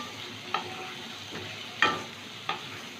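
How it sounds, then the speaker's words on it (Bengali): Potatoes and onions fry quietly in a pan with salt and turmeric, a soft steady sizzle broken by a few sharp stirring scrapes of a spatula. "আলু আর পেঁয়াজটা একটু ভেজে নেব"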